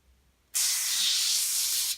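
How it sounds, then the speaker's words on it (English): Cleaner is sprayed around a rusty blade caked with resin buildup, making one close, steady hiss that lasts about a second and a half before cutting off. "Just spray it all the way around."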